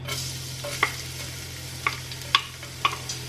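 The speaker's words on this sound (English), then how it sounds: "We're going to saute the garlic and the onions together." Garlic sautés in oil in a big pot, a steady close sizzle with a few sharp clinks and scrapes of a utensil stirring.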